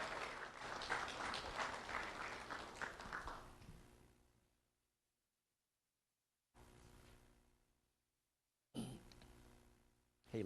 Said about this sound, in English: Let's have a round of applause for Haley Fuentes and Ashton Sainville